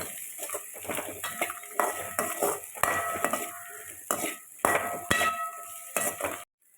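Tamarind and six or seven dried red chillies being sautéed in a pan for vallarai keerai chutney, with repeated metallic scraping and clinking of a utensil against the pan, fairly close and steady, with no talk.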